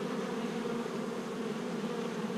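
Honey bees buzz at a hive in a bee yard while foragers bring in pollen, a dense, steady, close-up drone that holds unbroken throughout with no talking.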